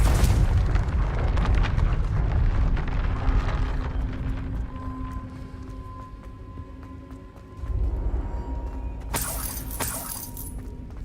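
A Confringo blasting spell goes off in Hogwarts Legacy with a loud, rumbling explosive burst followed by a sustained roar, then a second sharp crackling blast near the end, all fairly close and dense.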